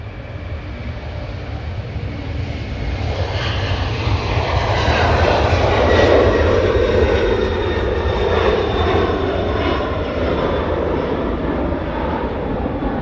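Passenger jet departing Manchester Airport for Lanzarote, its engines roaring steadily and building slightly as it climbs away, loud and sustained with broadband rumble throughout.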